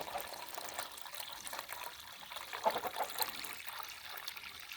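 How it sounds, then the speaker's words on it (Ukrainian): Water poured into a duckling drinker, a soft steady trickle and splash of liquid filling a container, fairly quiet and close, with no talking. "Наливаю доверху водички."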